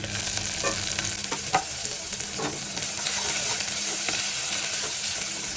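Carrot, cabbage, onion and capsicum stirred together in a hot pan for chicken manchurian, giving a steady close sizzle with several scraping stir strokes, no talking.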